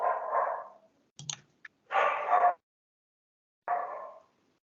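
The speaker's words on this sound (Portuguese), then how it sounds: "os cachorros não param de latir" A dog barks out on a residential street, several short bark bursts separated by pauses, moderately loud and fairly close, with a few sharp clicks between them and no talk.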